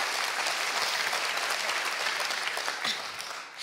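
Steady, dense applause from a comedy festival audience in Liège, sustained throughout and tapering slightly at the end.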